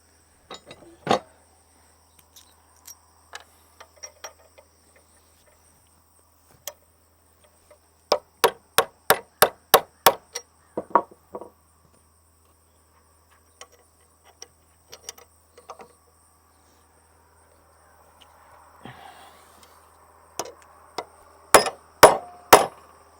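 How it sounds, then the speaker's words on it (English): Hammer blows on metal while knocking a bent part of a hay tedder back into place: scattered single strikes, then quick runs of sharp, ringing hits with quiet gaps between, close by and not masked by speech. "Let's see if we can hammer that back down into place."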